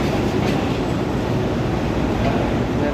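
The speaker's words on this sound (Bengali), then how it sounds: "ফাইনালি আমাদের ট্রেনটা 1 নম্বর প্ল্যাটফর্মে এসে হাজির হলো, বেনাপোল এক্সপ্রেস" Benapole Express passenger train at platform 1 of a station on the Kolkata–Dhaka route, a steady loud rumble of rolling stock and rail noise filling the whole stretch, with faint voices mixed into the din.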